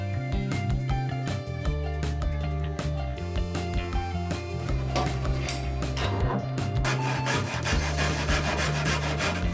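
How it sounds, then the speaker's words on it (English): A hand saw fitted with a homemade handle cuts through wood in steady, rhythmic back-and-forth strokes, loud and close, continuous throughout with no talking. "Again, we used the saw I made a handle for."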